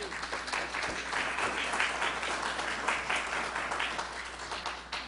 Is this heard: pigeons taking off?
no